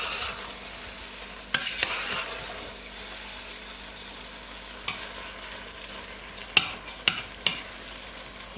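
A one-pot beef dish simmers and sizzles softly in the pot, broken by a few sharp clanks and scrapes of a spoon stirring, fairly faint and without talk.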